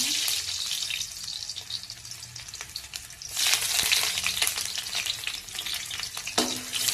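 Dried chili and onion frying in hot oil for a red fiddlehead fern and potato dish, a loud, continuous sizzle with scraping stirs and a brief surge partway through.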